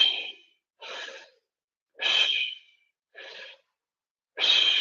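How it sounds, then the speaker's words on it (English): Deep breathwork: five big, forceful breaths, alternating long inhales and exhales. Each rushes close and clear with a short silence between. "certain breathwork exercises, big inhales, big exhales."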